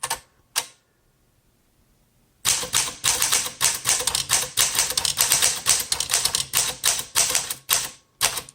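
Keys clack on a 1936 Smith Corona Standard Flat Top typewriter: two isolated strikes, a pause, then a rapid run of crisp, close keystrokes with a bell-like ding near the end.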